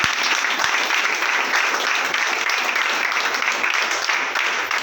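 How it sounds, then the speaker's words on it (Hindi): Loud, dense audience applause at an event honouring a speaker, a continuous roar of many hands clapping steadily throughout without pause. "तो फिर से एक बार जोरदार तालियां सबको"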